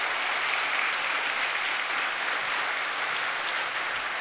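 A church congregation at a pastors' ordination ceremony applauding, a dense, steady wash of clapping from many hands that fills the hall at even strength throughout, with no voices standing out.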